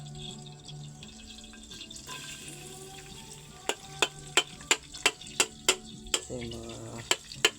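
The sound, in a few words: hot cooking oil frying food in a pan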